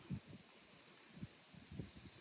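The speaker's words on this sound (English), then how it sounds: "Crickets." Crickets chirping outdoors in the September evening, a steady high-pitched trill that goes on without a break beside a drying cornfield, quiet and distant, with a light breeze and a few soft low rustles underneath.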